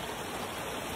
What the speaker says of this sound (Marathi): आला पाऊस